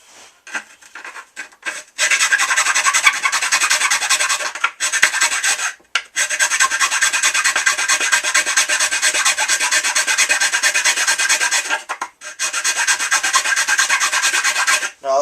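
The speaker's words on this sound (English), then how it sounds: "grab your needle files. Nice squared one I use. You just wanna start sanding them out." Steady, close rasping of a needle file scraping across plastic, run in long continuous strokes with a few brief pauses between passes.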